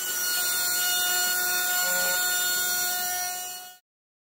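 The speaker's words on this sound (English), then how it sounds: "it looks to me like that could benefit from some massaging with the die grinder, so I'm going to take care of that now" A die grinder works the edge of a C6 Corvette air intake in a steady, high-pitched whine that holds loud and constant for several seconds before cutting off abruptly.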